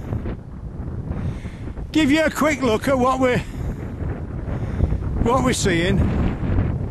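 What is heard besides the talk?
wind blowing on a country walk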